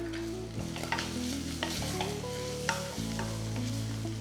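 Onions turning light brown with green chilli and curry leaves sizzle and crackle steadily in a pan for a Kerala pork pepper roast, with occasional stirring scrapes and background music underneath.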